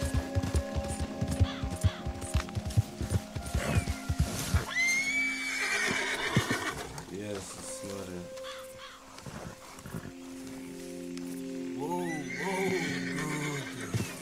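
A frightened horse whinnies and neighs repeatedly in the open-world game Red Dead Redemption II, with crows cawing and a few hoof clops, while someone speaks calmly to the animal.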